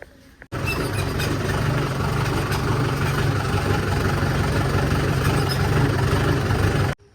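A tractor engine runs steadily at close range, a dense low rumble holding even for about six seconds after an abrupt start and stopping sharply at the end.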